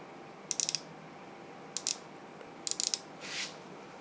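The ratchet on a precision micrometer is turned, giving three quick bursts of faint, crisp metallic clicks with short pauses between them, followed by a soft brief rustle.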